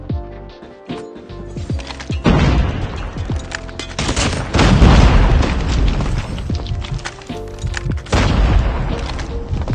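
Frag grenade blast in a shooter video game, amid loud booming gunfire and explosions, with dense rapid shots and heavy low thuds overlapping continuously, close and powerful.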